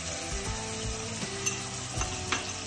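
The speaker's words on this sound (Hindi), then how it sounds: "हम थोड़ा सा चलाते हुए पकाएंगे।" Tomatoes with pav bhaji masala and salt cooking over low heat in a pan, a soft sizzle under repeated stirring with light scrapes and clinks of the spoon against the pan, no voices.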